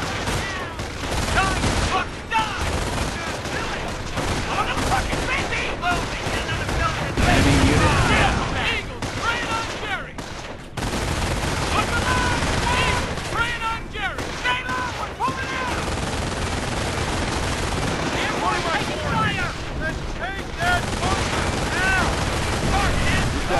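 Dense, continuous gunfire and heavy explosions rattle through a World War II battle in the Company of Heroes strategy game at Vierville, with bursts of automatic fire, booms and shouted unit voices layered throughout.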